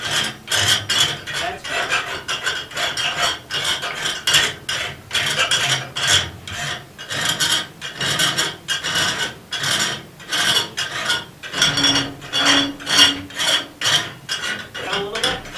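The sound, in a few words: filing a forged metal latch body with a file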